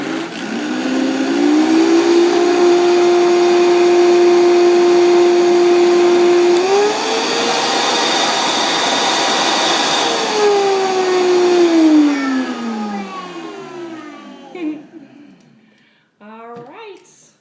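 A Vitamix blender purees sweet potatoes and apple into baby food: a loud, steady motor whine that climbs in pitch, holds, dips, then rises again before winding down, with a voice briefly heard near the end.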